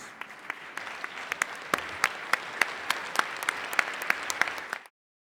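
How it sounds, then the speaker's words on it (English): Audience at Emory University standing to applaud Bishop Gene Robinson after his talk: dense, steady clapping with sharp individual claps standing out, fading to silence near the end. "Will you stand and give Bishop Robinson a robust round of applause and thanks?"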